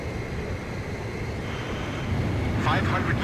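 Jet fighter engine drone in Ace Combat 5 as the aircraft closes on an aerial refueling craft, a steady low roar throughout with a brighter whooshing swell near the end.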